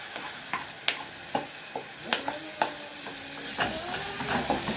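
Tomatoes tipped into a pan of garlic, coriander and ghee for an Egyptian-style okra stew, giving a steady close sizzle with scattered stirring clinks and scrapes.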